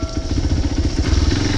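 A motorcycle rides slowly over a slippery, slick surface near a lake, its engine making a close, loud, steady pulsing rumble throughout.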